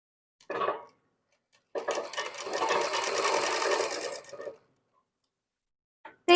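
Sewing machine stitching Afghani salwar fabric: a short burst of stitching, a pause, then a longer steady run of fast mechanical whirring lasting about three seconds, close and clear with no talk.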